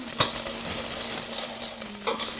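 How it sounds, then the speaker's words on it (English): Onions frying in a pot for dhal soup, a steady close sizzle with a couple of sharp scrapes from stirring at the start and end, no talking. "So you just let the onions glisten and everything else just come together."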